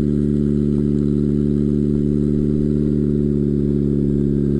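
A turbocharged Suzuki GSX-R Hayabusa motorcycle engine running at low boost, a loud, steady, droning idle with strong low harmonics held at constant pitch throughout, close by.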